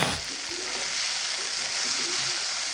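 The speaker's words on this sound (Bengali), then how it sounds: "তো এই মাছগুলো আমি সরিষার তেল দিয়ে ভেজে নিচ্ছি" Fish sizzling in mustard oil over medium heat, a steady dense hiss of frying with faint bubbling and spatter, continuous and fairly quiet throughout.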